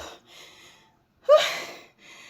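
A person breathing hard and gasping after exercising while carrying a heavy puppy on a hot morning, with short breathy bursts and one sharp loud gasp at close range.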